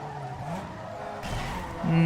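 Car tires squeal through a power slide in Need for Speed Underground 2. A rising engine note runs under them and turns louder and higher near the end, with a short sharp skid tone. Brief and moderately close.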